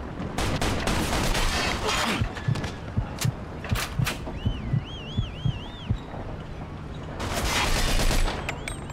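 Gunfire in the crime video game Mafia II: a rapid run of sharp shots and bursts, loud and close, with a brief quieter lull between volleys before heavy firing resumes.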